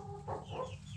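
Chickens cluck in a straw-bedded coop, two soft, close clucking bursts over a quiet background.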